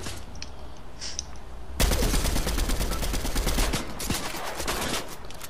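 Rapid bursts of video game gunfire in Fortnite, a loud sustained volley of automatic shots that starts abruptly after a quieter opening and continues to the end.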